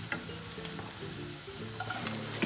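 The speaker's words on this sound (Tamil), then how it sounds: "அடுத்து வெண்டைக்காய் ஆட் பண்ணிடலாம்." Okra goes into a pan of potatoes already frying, giving a steady, close sizzle with scattered stirring and clinking sounds throughout and no voices.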